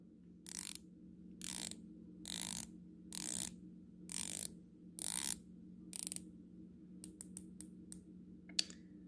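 Seven evenly spaced ratcheting clicks from a Hemel Hydrodurance watch bezel being turned, followed by a quicker burst of lighter clicks, close and crisp over a faint steady hum.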